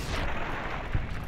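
Explosions and gunfire fill a Fallout: New Vegas battle against Powder Gangers, a dense, loud, continuous roar of blasts and shots with no pause.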